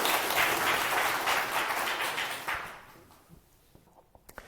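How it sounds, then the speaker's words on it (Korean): Audience applause at a Buddhist dharma talk after a question to the master: dense, steady clapping that thins out after a couple of seconds and fades into a quiet room with a few scattered claps. "박수 한번 부탁드립니다."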